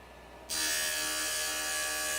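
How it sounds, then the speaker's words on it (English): Vacuum on a JOOLTOOL lapidary machine, used while shaping a turquoise cabochon, switches on abruptly after a short quiet moment and then runs as a steady, close, even hiss-laden whir. "So the pedal is for the vacuum."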